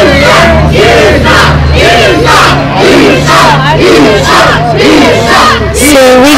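A wrestling crowd yells and jeers at a wrestler, loud, massed shouting voices rising and falling in waves, close and continuous, with an underlying low hum.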